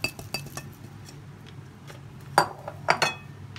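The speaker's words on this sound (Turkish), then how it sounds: "Bu baharatımızı artık içine karıştırıyoruz" A spoon scrapes and clinks against a bowl as spices are stirred into a cookie dough mixture, giving several sharp taps and scraping strokes, the loudest near the end.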